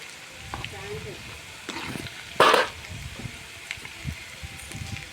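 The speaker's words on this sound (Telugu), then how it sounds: "చూసారు కదా, ఇవి చక్కగా ఫ్రై అవుతున్నాయి." Cauliflower pieces deep-frying in hot oil for gobi 65 give a steady crackling sizzle, with one louder bubbling burst midway, all close and continuous.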